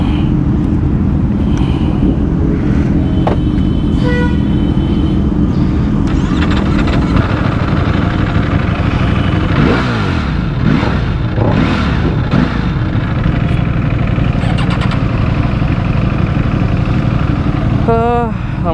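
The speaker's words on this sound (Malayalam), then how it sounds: "ഇപ്പം ഞാൻ ഓടിക്കാൻ പോകുന്നത് ഡുക്കാട്ടി V4S ആണ്, 2019 മോഡൽ" A 2019 Ducati Panigale V4 S motorcycle is ridden with a continuous engine drone, then rising and falling revs in quick swells through the middle, close and fairly loud.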